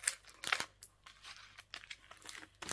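Tape pulled and pressed onto gift wrapping for a Christmas present, giving quiet crinkling and sticky tearing bursts with short pauses between, close and fairly soft with no talking.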